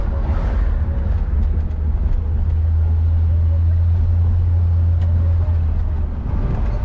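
A 1959 Chevrolet Bel Air out on a short drive produces a loud, continuous low engine rumble with road noise, steady and close for the whole stretch.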